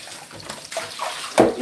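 A lemon is rinsed and scrubbed under running tap water for juicing, giving a short burst of close splashing flow that swells loudest at the end, with no voices.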